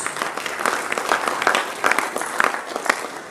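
Applause from the audience at a formal launch ceremony for a tertiary institutions entrepreneurship scheme, saluting the Central Bank Governor: steady, moderately loud clapping from many hands for a few seconds, with a faint voice mixed in.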